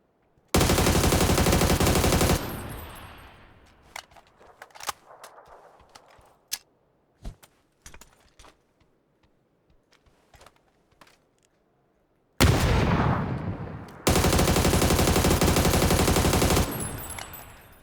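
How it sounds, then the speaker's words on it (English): Shooting in PUBG, with two long, loud, sustained blasts of fire at the start and end and a stretch of sharp, scattered single shots between them. "Was that a shotgun?"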